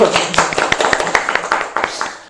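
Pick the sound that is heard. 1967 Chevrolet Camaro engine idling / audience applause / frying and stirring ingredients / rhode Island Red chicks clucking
audience applause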